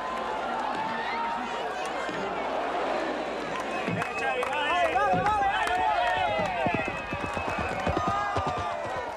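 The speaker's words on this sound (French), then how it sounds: "Au grand galop, le cavalier fonce vers l'objectif." A horse with a rider gallops hard through a dense crowd at the Sant Joan festival in Menorca, with rapid hoofbeats under constant loud crowd noise and some voices.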